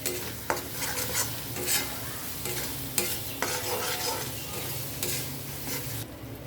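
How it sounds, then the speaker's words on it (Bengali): Coriander and cumin powder being stirred into a Bengali yogurt katla fish curry, a close, steady sizzle broken by scraping spoon strokes against the pan, with no talking. "1/2 চামচ জিরে গুঁড়ো দিয়ে আমি ভালো করে নেড়ে দেবো"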